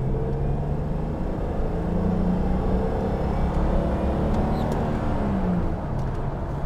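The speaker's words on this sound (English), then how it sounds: "it is wonderfully silky smooth straight six engine" A stock 1984 BMW CSi with a 5-speed gearbox drives along, its smooth straight-six engine giving a steady, close, continuous hum and low rumble that holds an even pitch throughout.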